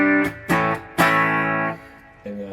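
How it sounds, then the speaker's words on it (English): Electric guitar played through a Boss Katana-50 Mk II modeling amp with a green reverb effect, several plucked chords and single notes that ring on and fade with a reverberant tail, heard alone. "So here's the green reverb"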